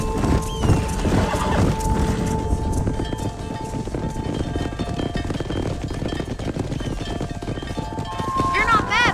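Herded horses in the Red Dead Redemption video game, with a steady patter of galloping hooves, repeated whinnies and a loud neigh near the end, under a voice and some wind.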